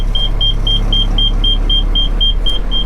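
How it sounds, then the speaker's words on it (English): A vehicle engine hums low and steady at close range while backing out, and a regular high warning beep repeats about every quarter second over it. No one speaks. "But now we're gonna back this sucker out and out of here."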